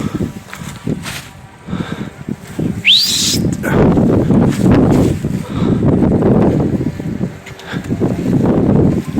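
Steady wind rumbles and buffets throughout, with a brief bird call rising over it near the start; gusts swell and ease without any talking. A young stork is flying against the wind.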